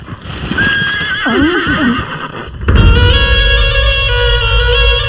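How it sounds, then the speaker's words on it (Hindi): A horse hitched to a horse cart whinnies loudly up close, its neigh wavering and falling. Then hooves clatter in and a heavier rumbling swell takes over. "अरे भाई मगधीरा, इस घोड़ा गाड़ी को बाईं तरफ से दायां करके पीछे ले लो"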